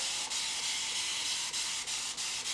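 A soft, steady hiss of fine water mist sprayed onto damp hair close by, broken by a few brief pauses between pumps.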